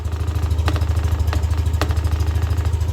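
Yamaha Nmax v2 scooter engine idling after sand got inside it, a steady, loud, low rhythmic putter with a few faint sharp ticks over it and no talk.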